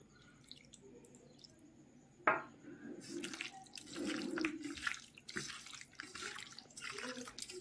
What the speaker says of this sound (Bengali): একটু ওপর থেকে একটু হালকা করে গরম জল, তাহলে ম্যারিনেটটা খুব ভালো হবে